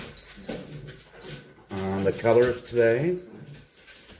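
Small Yorkie poo dogs whimpering and panting indoors, thin whines and soft breathy sounds, heard faintly under someone talking close by.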